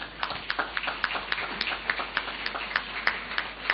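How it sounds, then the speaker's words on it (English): An audience at an international leadership conference claps for the panelists, with crisp, evenly spaced claps at a brisk, regular pace that sound moderately close and thin, with no talk over them. "I would like the panelists to give you a round of applause."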